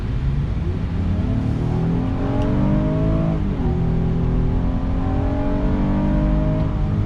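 A 2019 Honda Passport V6 engine revs up steadily, its pitch climbing then dropping with a gear shift and rising again, loud and continuous from inside the cabin.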